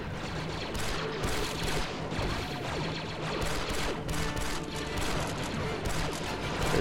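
Continuous gunfire with bursts and explosions from grenades in the Star Wars Republic Commando video game, a dense loud battle that barely lets up, with faint voices mixed in.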